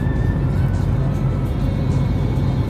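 Steady, loud road and engine drone from a 2020 Ford Shelby GT500 cruising on a highway, with low rumble and tire noise continuous throughout and no talking.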